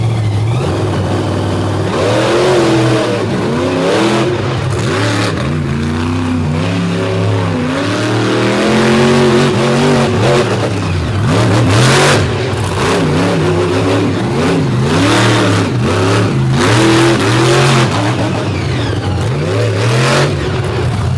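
A race truck engine revs hard on a slippery dirt track, loud and close with repeated rising and falling sweeps of pitch across about twenty seconds.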